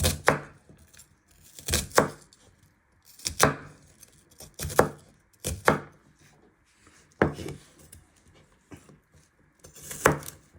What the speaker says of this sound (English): you want to chop them into little pieces